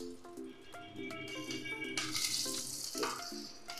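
Fenugreek seeds, dried red chillies and green chillies drop into hot oil as panch phoron tempering for chapor ghonto. It starts as a faint crackle under a steady tonal hum, then swells into a brighter, louder sizzle about halfway through.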